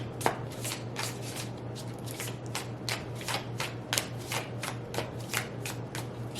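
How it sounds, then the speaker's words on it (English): An oracle card deck is shuffled by hand in a steady run of crisp riffling flutters, repeating at an even pace over a low constant hum, close and fairly quiet with no talking. "With the Oracle decks, I just like to shuffle until they come out."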